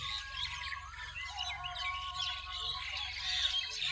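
Several birds chirp and tweet at a moderate distance over a low background hum, their calls overlapping without pause.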